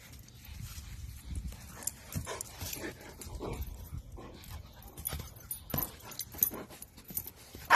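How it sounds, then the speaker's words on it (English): An excited dog whimpers and pants after its owner finds it hiding, giving a run of short, uneven whines and breathy sounds that continue steadily and fairly close throughout, with no talking. "This dog got really excited when their owner found them hiding."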